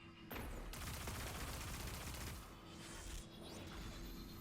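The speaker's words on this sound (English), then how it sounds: "Now I try to spam the machine gun as much as I can" Rapid machine gun fire in the video game Destiny 2, a dense sustained burst of shots with a brief pause and a shorter second burst, loud and close with no talk.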